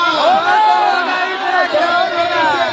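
Dense crowd gathered at a BPSC exam protest in Bihar, a continuous loud wash of many voices with overlapping chatter and shouting, close and steady throughout.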